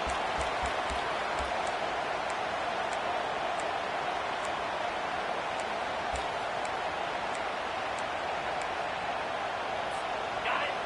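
A roaring college football stadium crowd in NCAA 25, a constant dense wall of cheering and yelling with scattered faint clicks on top.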